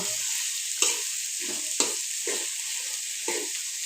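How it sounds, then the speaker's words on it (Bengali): Green chilies and naga chilies fry in mustard oil, a constant bright sizzle broken by about six rhythmic stirring scrapes spaced roughly half a second apart, close up with no talking. "আমার কাঁচামরিচ নাগামরিচ এই একটা কালার সব আমি দিয়ে দিলাম এখানে তো এগুলাকে ভালো করে বেজে নিব"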